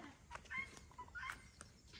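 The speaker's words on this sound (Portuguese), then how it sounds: "o Angola tá cantando" Guinea fowl calling on a rural farm: a few sharp, brief repeated cries scattered across the moment, moderately faint against an open outdoor background.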